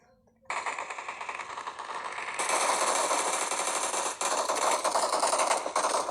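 Sustained automatic gunfire from a video game, loud and continuous for several seconds with rapid bursts, growing denser partway through.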